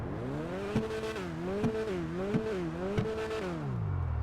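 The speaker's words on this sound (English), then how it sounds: "let's listen to how the vehicle sounds" Grotti Stinger sports car in GTA 5 Online revs its engine, the pitch rising and falling in repeated bursts with brief sharp gear or throttle blips, steady and fairly loud.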